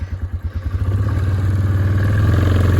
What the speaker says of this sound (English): Got the hay elevator hooked up to the four-wheeler.